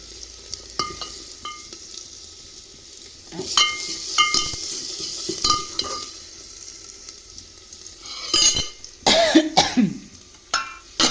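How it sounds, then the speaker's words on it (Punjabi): Masala for chole sizzles in a pan while a spoon scrapes and stirs it in irregular strokes, close and clear, with a brief cough partway through and livelier stirring near the end. "ਇਹਨੂੰ ਪੂਰਾ ਮਸਾਲਾ ਪਕਾਓ"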